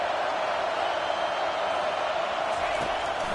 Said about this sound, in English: There have been decibels rising as the crowd gets behind this defense on 3rd down.